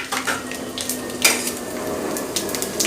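Cumin, fenugreek and dried red chillies sizzle in hot oil while sambar is prepared, a soft steady crackle broken by a few light clinks of a spoon against the pan.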